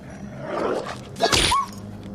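A dog barks and yelps in a scene from the film Terminator 2, a single short burst near the middle rising over a low background of movie sound.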